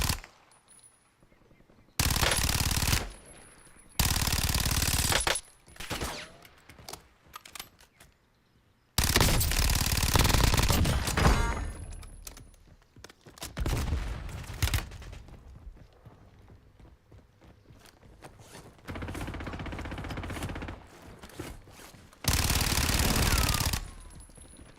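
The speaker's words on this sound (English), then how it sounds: "Taking effective fire." Bursts of automatic gunfire in Call of Duty Warzone on Verdansk, loud rapid volleys in several separate blocks with shorter single shots and quieter gaps between them.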